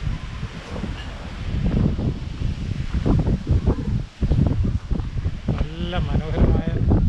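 Wind gusts steadily across a riverside restaurant at a highway motel in Armenia, a constant broadband rush with brief lulls and voices faintly under it.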